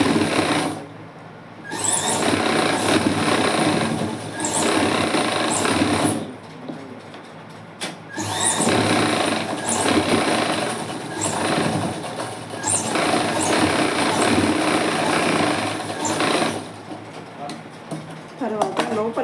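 A sewing machine runs fast through fabric in bursts, stitching a straight seam, its whirring rattle broken by short pauses, with a voice talking over it.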